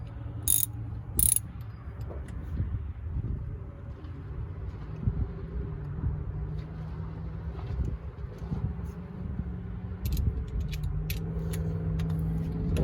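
Wrench work on the engine of a 1964 Chevrolet C20 truck while its thermostat is changed: quiet ratchet clicks and metallic clinks come in irregular bursts, close by and faint, with occasional sharper taps.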